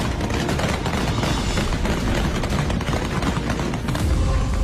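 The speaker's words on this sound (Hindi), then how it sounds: "गोलियों की तड़तड़ाहट आप साफ सुन सकते हैं।" Dense, continuous crackle of rapid gunfire in Kabul with booming low end, loud and sustained throughout, no voices.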